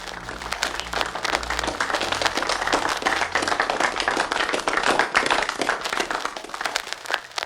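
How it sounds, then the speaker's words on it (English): Steady, dense applause from an audience greeting Coach Kai, continuous clapping at even loudness across the whole stretch with no pause. "Please just give a round of applause for Coach Kai."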